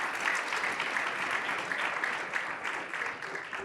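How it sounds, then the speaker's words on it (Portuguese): An audience claps for the panelists after a talk on international careers in finance, a dense, even round of many hands with faint voices underneath. "Uma salva de palmas mais uma vez para os nossos panelistas."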